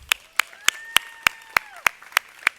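Steady, evenly spaced single claps, about three per second, ring out close and crisp at an outdoor fountain dedication ceremony in Kellogg Park, with a faint tonal hum underneath.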